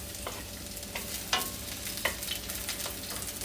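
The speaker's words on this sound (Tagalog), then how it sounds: "At papulahin po natin ang ating bawang." Garlic sizzles steadily in a hot pan, a soft continuous crackle broken by a few light stirring scrapes and taps.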